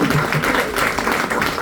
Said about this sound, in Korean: 보통 이럴 때 박수를 치던데요.